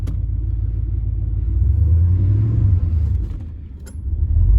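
A Ford F150 with a blown, low-fluid transmission is revved up close. The engine gives a loud, deep rumble that swells and eases before a brief metallic clink.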